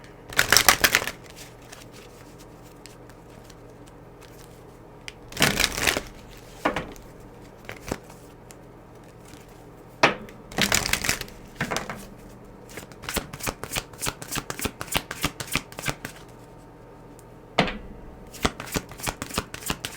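A deck of oracle cards is shuffled in several crisp, riffling bursts separated by quiet pauses, close and fairly loud, with no talking.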